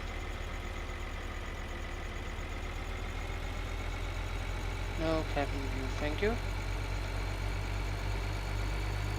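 Tractor engine idling in a farming video game, a steady low drone running throughout at moderate level, with a person talking briefly over it partway through.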